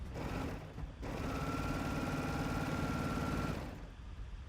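A serger sewing machine stitches fabric in a steady, fast mechanical whirring hum for about three seconds, ramping up after a brief pause and then slowing to a stop, heard close but at modest volume.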